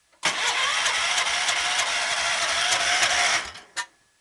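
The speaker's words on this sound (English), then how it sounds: "It's running on 100 octane right now, so it's kind of slow starting up." A Cub 128 pulling tractor running on 100 octane fuel starts up, its engine cranking and catching into a loud, close mid-pitched roar for about three seconds before cutting off, followed by a short final burst.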